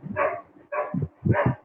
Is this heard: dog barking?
yes